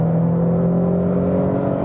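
A 2022 Nissan Frontier PRO-4X pickup with a 310-horsepower engine pulls hard up a highway on-ramp, its steady, loud engine drone holding strong harmonic tones throughout, close and continuous with no one speaking.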